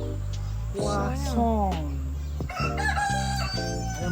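A rooster crows loudly and close at a fruit farm in Selangor, with one long drawn-out call followed by a second rough crowing burst.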